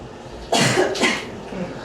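Two quick, loud coughs in close succession, close to the listener, then quiet.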